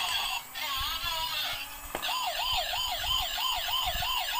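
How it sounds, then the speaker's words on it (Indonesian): A toy police car and ambulance siren wailing in a rapid, repeating up-and-down pattern, fairly quiet and steady, with a sharp click partway through as the siren changes to a faster warble. "Bunyi suara sirenenya kencang banget teman-teman."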